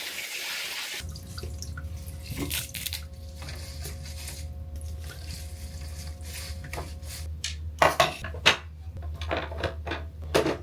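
Tap water runs steadily into a kitchen sink while fresh garden oregano and thyme are rinsed, a constant close hiss over a low hum, with a few louder splashes and knocks near the end.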